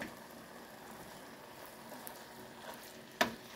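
Squash and venison chili being stirred in a pot, a faint, soft, low bubbling scrape close by, ending in a single sharp clink of the spoon against the pot.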